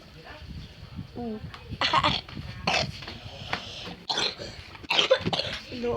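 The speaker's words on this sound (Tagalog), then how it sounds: "Inuubo ako, guys." Several rough, separate coughs burst out close up, unevenly spaced, with brief voice sounds between them.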